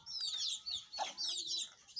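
Desi chickens and chicks on a farm in Sindh, Pakistan cluck in close, repeated bursts with brief pauses between them, fairly faint and without talk.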